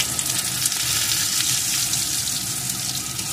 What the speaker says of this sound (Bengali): আলুটাকেও একটু ভেজে নেব।